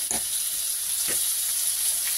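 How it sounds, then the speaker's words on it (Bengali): Tomato added to a pan of frying vegetables sets off a steady close sizzle, with a couple of quick stirring scrapes and no talking. "এই যে সব সবজি ভাজা হয়ে গেছে, এবার আমি দিলাম টমেটো"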